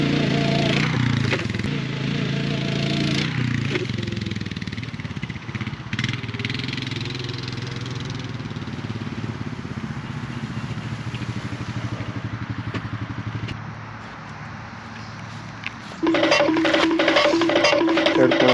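A Honda Rancher 420 four-wheeler engine runs steadily off-road, a loud, continuous mid-pitched drone that rises and roughens near the end as the throttle opens.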